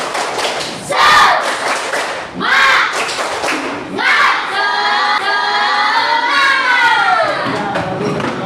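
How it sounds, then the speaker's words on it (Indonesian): A class of students stands and does a spirited rhythmic clapping cheer, with loud bursts of claps and shouted group chants ringing out together. "Kita akan bertepuk tangan."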